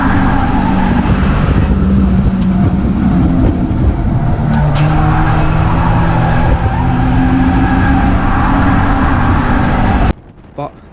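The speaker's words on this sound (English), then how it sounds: "My dad has a massive slide round the top corner" A race car slides hard through the top corner mid-race, its engine roaring loud and close with a continuous droning whine and rough tyre scrub, then cutting off abruptly near the end.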